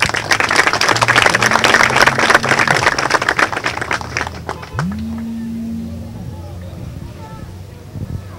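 An audience at a Ventanilla court ceremony applauds to welcome the court president, loud sustained clapping filling the room before tapering, then a voice begins speaking over the quieter hall.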